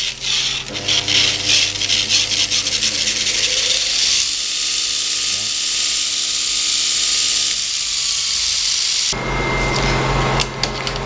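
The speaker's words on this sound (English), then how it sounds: "the platen is just sitting underneath the belt, and you can hear it. You can actually hear it there rubbing." Steady abrasive rubbing from a multitool belt grinder, its platen sitting just under the running belt, a continuous loud whir with a dense gritty hiss, alone without talk.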